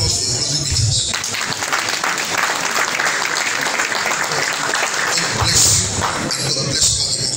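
Loud crowd applause at a Nigerian celebration event honouring contributors, a thick continuous clapping roar with cheering voices and some ambient noise rising near the end.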